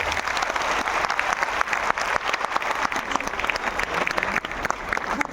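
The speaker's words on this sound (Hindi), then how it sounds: "आप सभी के लिए एक जोरदार तालियां" Vigorous applause from a large crowd at a company meeting in Patna, loud and sustained with crisp individual claps standing out over the steady roar.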